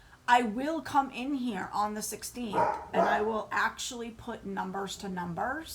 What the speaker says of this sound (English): he barks at absolutely everything